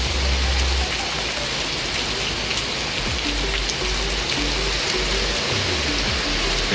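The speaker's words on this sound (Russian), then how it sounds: "Тут опять мощный дождь, что зимой неудивительно." Loud, steady downpour of heavy winter rain in Mar del Plata, a dense continuous hiss with occasional low rumbles, no voices.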